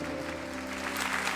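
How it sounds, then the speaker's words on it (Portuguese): A church congregation gives a steady round of applause for an elderly woman, a dense, even patter of many hands filling the room for just over a second, with no one talking. "Então nós vamos expressar essa gratidão com um aplauso à senhora."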